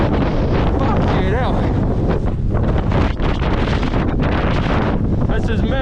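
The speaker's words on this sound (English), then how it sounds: "we're finally out that horrible wind" Strong gusting wind buffets the microphone during a snow storm on the Ben Chonzie mountain summit, a loud continuous roar with a voice faintly mixed in.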